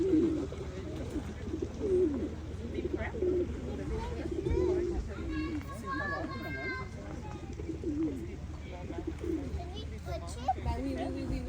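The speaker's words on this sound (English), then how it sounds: "So here are the pigeons." Pigeons coo on a family farm in Maple Ridge, Canada, soft low repeated calls close by, mixed with children's voices and chatter in the background.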